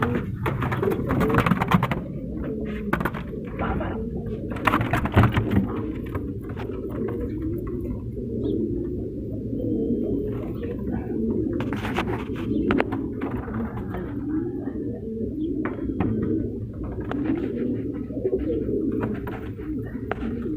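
A breeding pair of Shirazi pigeons in Multan coo steadily and close by, with soft overlapping, throaty calls and occasional wing or shuffling noises and no talking.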